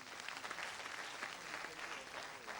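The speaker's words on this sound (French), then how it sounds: "Je vais vous demander d'applaudir pour l'Onatel SA." At the launch event of the Faso Academy 2017 contest, an audience applauds a sponsor with steady, dense clapping that sounds fairly distant and low in level throughout.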